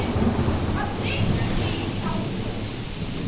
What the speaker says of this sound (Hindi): ये तूफानी बारिश है।